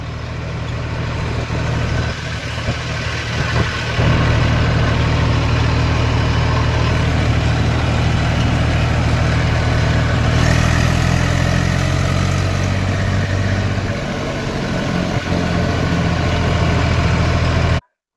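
A tractor engine idles and runs steadily at close range in a village farm setting, a continuous low rumble that holds throughout with slight shifts in load and no talk.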